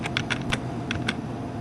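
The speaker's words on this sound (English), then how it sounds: "I'll go ahead and type April 23rd, 2010" A few quick clicks of keys typed on a computer keyboard, close and fairly soft, in an uneven short burst with a pause in the middle and a low steady hum beneath.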